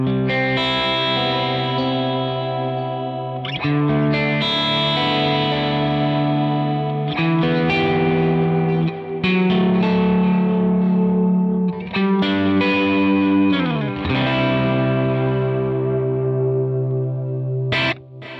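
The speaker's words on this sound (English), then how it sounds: "Then we've got our modulation setting." Guitar played through a UAFX Del-Verb pedal on its modulated delay setting, sustained chords and notes ringing out with wavering, repeating echoes, loud and continuous with no talking.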